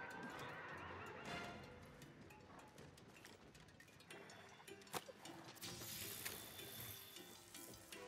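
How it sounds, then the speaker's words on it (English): A horse in Monster Hunter World neighs and whinnies amid a dense, busy game soundscape with clopping and mechanical clicks, the calls fairly faint and blended into the continuous background noise. "don't ask me how a horse managed to climb up this."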